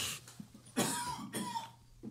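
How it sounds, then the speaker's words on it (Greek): A few rough coughs from someone who is unwell, two strong bursts close together with a smaller one before and after, near and alone with no talk in between. "συγγνώμη για το βήχα, αλλά είμαι χάλια"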